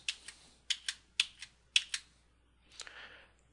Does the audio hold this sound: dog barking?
no